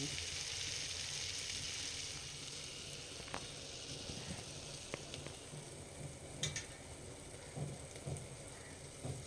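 Steady sizzling of a dal tempering in hot oil fills the clip, a constant crackling hiss with a few sharper pops near the end.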